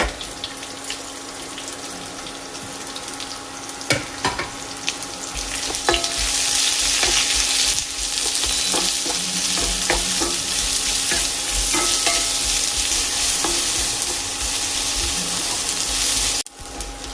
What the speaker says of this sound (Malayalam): ഇത് ഞാൻ ഈ ഒരു ലോ ടു മീഡിയം ഫ്ലെയിമിൽ വെച്ചാണ് ഇതുപോലെ വഴറ്റിയെടുത്തത്